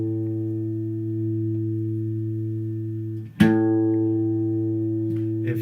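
Guitar second string ringing sustained at pitch, close and steady, then plucked again partway through, alone with no talk.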